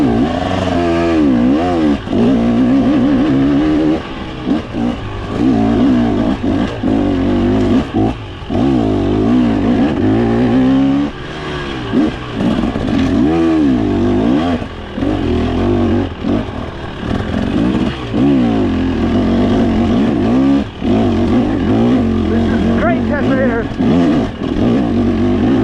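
A 2023 TBT Racing 300 dirt bike climbs a faster uphill trail, its engine loud and close, revving and bogging in continuous surges with rattling chassis clatter, and a rider's voice at times under the noise.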